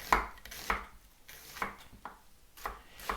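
A knife slices onions into thin half-moon pieces on a cutting board, making about six crisp, separate chopping knocks at a steady, unhurried pace. The cuts sound close and quiet, with no voices.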